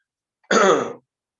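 A single short, harsh cough or throat clear, close and fairly loud, standing alone in silence.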